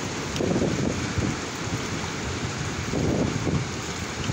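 Heavy afternoon rain pouring down steadily, a dense close hiss with two heavier surges of low rumbling drumming, no voices.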